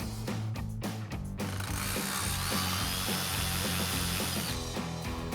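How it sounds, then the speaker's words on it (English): A power driver backing T15 Torx screws out of the fender liner on a 2020-2026 Chevrolet Silverado 2500, loud close whirring with ratcheting pulses and brief stops and restarts. "we're going to remove the 3 T15 Torx screws at the bottom of our fender liner"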